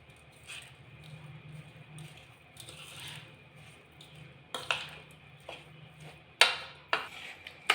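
Sago mixed by hand in a bowl with sugar, salt and milk powder: soft, quiet squishing and rubbing, then a few sharper clinks and taps toward the end.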